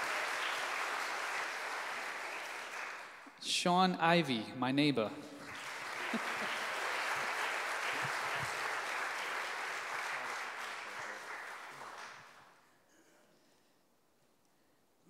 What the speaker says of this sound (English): you can give her a round of applause